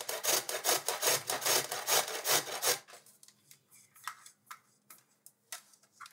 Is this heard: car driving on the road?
no